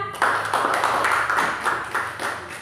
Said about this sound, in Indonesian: Kita berikan tepuk tangan untuk keduanya